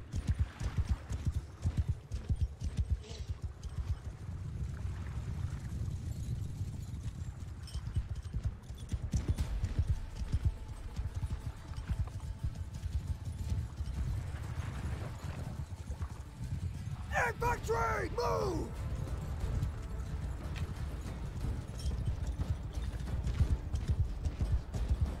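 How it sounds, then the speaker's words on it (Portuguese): Cavalry horses gallop in the medieval battle game Mount & Blade 2: Bannerlord, a dense rapid clatter of hooves rolling continuously for the whole stretch, with a brief horse whinny and faint battle noise mixed in. "Cavalry, follow me!"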